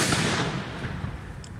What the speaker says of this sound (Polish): oddał strzał w kierunku bolszewików.